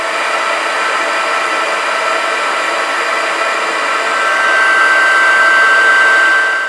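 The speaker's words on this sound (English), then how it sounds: "So then we just get my heat gun, and then I like to heat from above and below." A heat gun melts embossing powder on a handmade Halloween card, giving off a loud, steady, close blowing hiss that swells slightly toward the end, with no speech.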